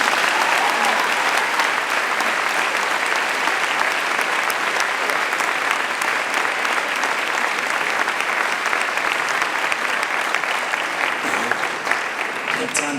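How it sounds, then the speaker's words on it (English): A large audience at a school matric prizegiving ceremony applauds loudly and steadily, with dense, sustained clapping that fills the hall for the whole stretch. "could we give Ukoko a round of applause"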